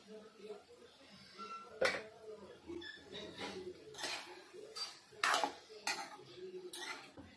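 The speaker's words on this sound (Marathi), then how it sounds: "मी हलवणार आहे, कारण माझी ना कढई लहान आहे।" A spoon stirs cooked rice with mushroom masala in a small kadai, making intermittent scrapes and metallic clinks under a speaking voice, close and fairly quiet.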